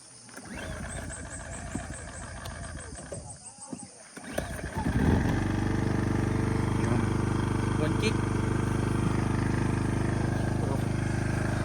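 A motorcycle is kick-started on a mountain road. Rustling and faint voices come first, then the engine catches about halfway through and settles into a loud, steady running drone to the end.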